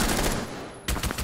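Gunfire in a shooting video game crackles in two bursts, a sustained volley that fades out and then a sharper burst near the end, loud and without talk.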